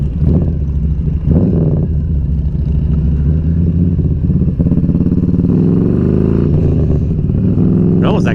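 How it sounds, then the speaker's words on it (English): A motorcycle with a bogging, rough-running fault revs with the clutch pulled in, its engine droning close and loud with rising and falling pitch while someone talks over it. "if I pull the clutch in and rev it though, it doesn't do that bogging crap."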